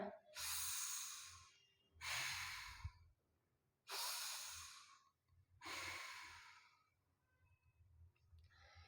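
After a yoga pose for standing workers, a person breathes deeply and slowly, with four long, close, airy exhales separated by short pauses, and a fainter breath at the end.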